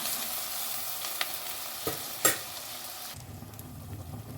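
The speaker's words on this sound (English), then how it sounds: "Also fry these tomato pieces nicely." Tomato pieces and onions fry in a pan for a cauliflower coconut pepper curry, a moderate sizzle with a few sharp stirring knocks, then the sizzle drops away to a low rumble.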